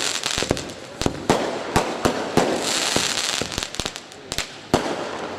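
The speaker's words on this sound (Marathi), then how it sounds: "हे फटाके एप्रिलमध्ये शिल्लक ठेवा." Firecrackers burst at an outdoor political rally, a rapid irregular string of sharp, loud cracks and pops over a steady crowd hiss.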